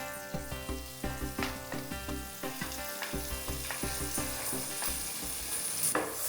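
A spice mix with tomato sizzles in a hot pan while a spoon scrapes and stirs it in a steady rhythm, close and continuous.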